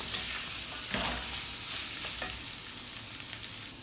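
Potatoes get stirred into a dry spice masala in a hot pan: a constant frying sizzle with a few louder scraping strokes of the spoon, close and without speech.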